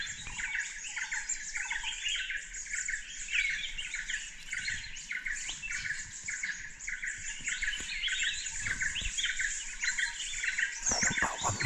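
Birds call and chirp continuously in dense, overlapping high tweets and squawks, with faint insect trilling underneath and occasional soft knocks.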